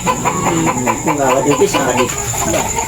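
Chickens cluck and squawk nearby on a rural Philippine property, loud and continuous, with a steady high hum running underneath and voices mixed in.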